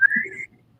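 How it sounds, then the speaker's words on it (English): A person whistles a single brief, very high tone that wavers slightly and fades out after about half a second, close and clear, with no talking. "put your lips in the position you need to whistle the highest tone that you can"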